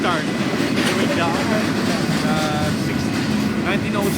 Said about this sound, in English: while the train is going,